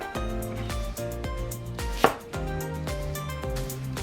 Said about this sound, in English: Let's cut green onion.